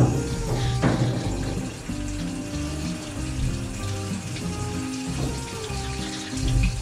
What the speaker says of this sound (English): So this is the pressure from the hose pipe.